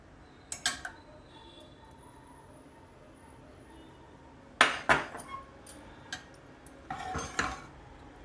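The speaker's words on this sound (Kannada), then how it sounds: "ಒಗ್ಗರಣೆ ಮಿಕ್ಸ್ ಮಾಡ್ತಾಯಿದ್ದೀನಿ" A spoon clinks and scrapes against a metal pot while tempering is stirred into idli sambar, sharp knocks arriving in scattered bursts between quiet stretches.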